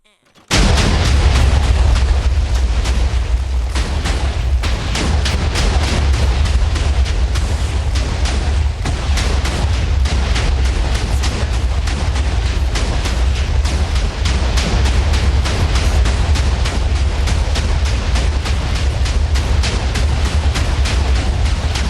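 A Civil War-era Parrot rifle rigged as a rapid-firing minigun blasts in a dense, continuous stream of loud booming reports, close and relentless, with no pause for the whole stretch.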